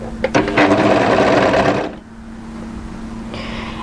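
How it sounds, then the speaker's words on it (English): An overlocker stitches a dress side seam, a loud close whirring run of rapid stitching lasting about two seconds before it stops, followed by quiet room tone. "So just overlock a few stitches in just to hold that in place."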